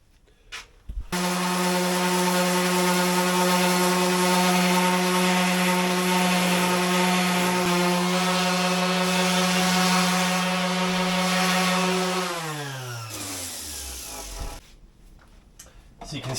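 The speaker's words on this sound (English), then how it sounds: "Going to finish this coffee and then we're going to get sanding again." A power sander works wood for reefing chocks for a Drascombe Lugger's gaff in a workshop, a loud continuous whirring drone with a steady motor hum that slows and winds down near the end.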